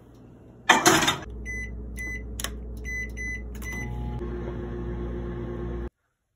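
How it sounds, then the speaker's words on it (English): A microwave oven running with chicken cordon bleu inside: a loud clunk as the door shuts, a series of electronic beeps from the keypad, then a steady low hum that runs alone until it cuts off near the end. "Microwave in."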